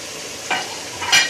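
Haleem frying with spices in a pan, a steady close sizzle broken by two short scraping stirs of the spoon against the pan.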